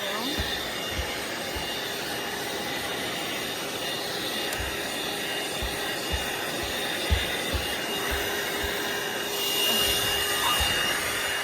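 A corded car vacuum cleaner runs continuously with a loud, steady whooshing drone, with a few dull low bumps beneath it and a slight swell near the end.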